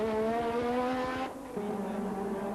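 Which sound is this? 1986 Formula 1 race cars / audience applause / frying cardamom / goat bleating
1986 Formula 1 race cars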